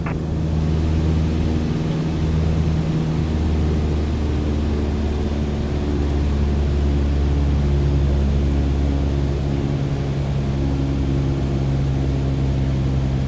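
A single-engine aircraft in Microsoft Flight Simulator with its engine throttled back to reduced power, a loud, steady low droning hum with stable engine tones holding throughout, no talk.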